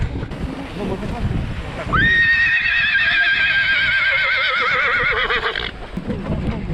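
Yakut horses at a horse-breeding farm, one giving a loud, sustained neigh with a wavering pitch lasting about four seconds, close and clear, set between softer background movement and clopping sounds.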